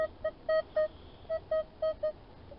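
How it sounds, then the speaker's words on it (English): A metal detector sweeping over buried metal gives a series of about eight short, evenly spaced electronic beeps, faint and clear against quiet ground noise. "All right, so the detector's going crazy. It's a 20."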